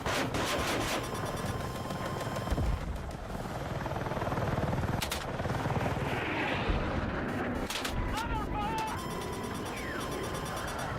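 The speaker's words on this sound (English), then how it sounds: "let's go for a ride in the heli, shall we?" Helicopter flying in the video game Battlefield 6, a steady rotor and engine drone running under constant gunfire and explosions, with brief bursts and whooshes scattered through the battle noise.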